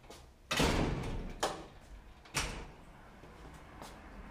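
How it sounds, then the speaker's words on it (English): A house's front door swings shut with a firm thud, followed by two lighter knocks or latch clicks a second apart, all fairly near in an otherwise quiet room. "Close the front door."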